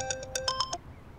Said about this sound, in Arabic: جانان على التليفون.